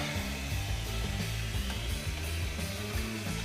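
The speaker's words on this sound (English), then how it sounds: "Leave the vacuum running for most of it though." A steady, loud vacuum cleaner drone with a constant whine and rumble holds unchanged throughout, running close by.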